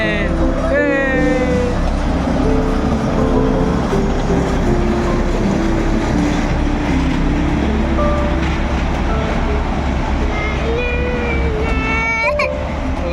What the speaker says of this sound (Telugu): అదే టాయ్ ట్రైన్.